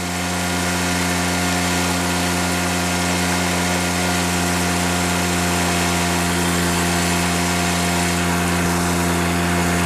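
A 1974 Cady M3 garden tractor engine runs steadily under hard load, a loud, continuous buzzing drone with strong steady harmonics that holds constant throughout.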